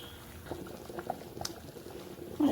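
A pot of lentil dal cooked with a fish head simmers on the stove, giving off a quiet, steady bubbling and popping that stays fairly faint, with a slight clatter at the very end.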